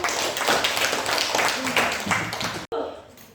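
A group claps together in a fairly close room, brisk irregular hand claps with voices mixed in, the sound cutting off abruptly near the end and followed by quieter murmuring.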